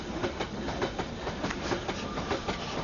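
A train passes with rhythmic clickety-clack of wheels over rail joints, a steady rumble and repeated clacks filling the whole stretch, with no speech.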